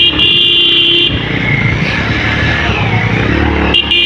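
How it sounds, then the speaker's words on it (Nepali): A tractor travelling on an uphill jungle road at dusk, heard from a vehicle behind it as a loud, continuous rumbling engine drone with rattling, and a horn-like tone at the start and end. "अगाडि ट्र्याक्टर हिँडिरहेको छ"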